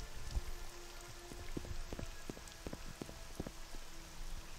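Rain falls over the volcanic Ashlands in Morrowind, a constant hiss punctuated by distinct knocking drops and soft thumps at an uneven pace, close-up with no talking.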